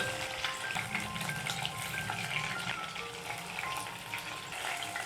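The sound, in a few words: hilsa fish pieces frying in oil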